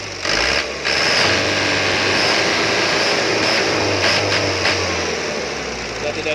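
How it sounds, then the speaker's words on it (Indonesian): A Mitsubishi Canter truck diesel engine revving smoothly and evenly after a fuel injection plunger repair, a steady close engine drone holding for several seconds with no stutter or misfire. "sudah tidak ada suara berebet saat digas karena plunger sudah bisa bekerja dengan maksimal kembali"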